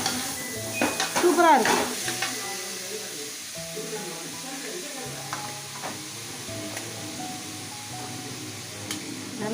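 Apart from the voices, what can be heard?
mutton sizzling while being sautéed in a pan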